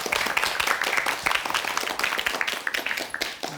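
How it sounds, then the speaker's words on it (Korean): A Korean TV studio audience claps in a lively burst of many hands, steady and close, filling a few seconds on its own before a storyteller begins. "이야기 박수로 청해 듣겠습니다."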